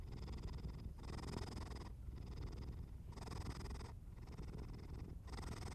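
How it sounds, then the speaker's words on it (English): A cat named Mira purrs steadily and close, the rumbling breaths rising and falling in a slow rhythm of roughly one cycle per second, with no other sounds around. "The purring continues"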